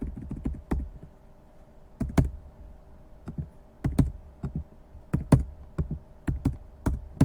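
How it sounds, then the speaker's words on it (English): Keys pressed on a calculator while a table of data is entered, clusters of crisp plastic clicks in quick bursts separated by short pauses, close up in a quiet room. "you can use the same idea and type your table in"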